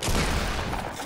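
A burst of dense, loud shotgun fire in a Fortnite match, with rapid overlapping blasts filling the whole short moment.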